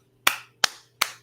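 Three slow, deliberate hand claps ring out close and sharp, evenly spaced with a short decaying tail after each, over a faint hum.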